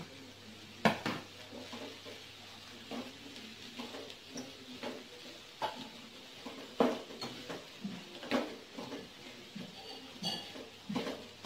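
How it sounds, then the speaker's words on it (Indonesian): Smoked meat briefly stir-fried in a pan for risol mayo filling, faint sizzling with irregular scrapes and taps of a utensil against the pan at close range. "kita masukkan daging asapnya kita tumis sebentar aja"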